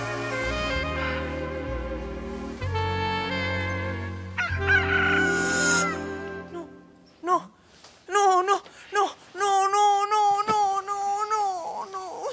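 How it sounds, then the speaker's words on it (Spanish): Rooster crowing in the morning, heard as several loud, strained calls in the second half, preceded by a long stretch of sustained music. "Gallo desgraciado, ¿por qué justo ahora no?"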